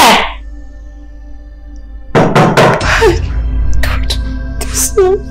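Several sharp knocks on a house door in quick succession, loud and close, followed by a tense indoor stillness with a voice breaking in afterward.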